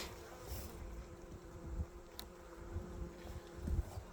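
Honey bees hum steadily around an open hive with brood-filled comb, a faint continuous drone with occasional closer passes and soft handling bumps.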